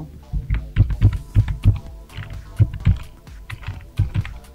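Someone types on a computer keyboard while setting Calibri font text for a certificate, producing irregular bursts of close, soft clicks and thumps with short pauses between groups of keystrokes.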